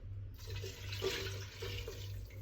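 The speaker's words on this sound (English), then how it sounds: "you add the same quantity of water to this" Water is poured into a tomato passata sauce being made for asparagus tortelli, giving a steady close splashing and gushing flow that lasts the whole moment, with no talking.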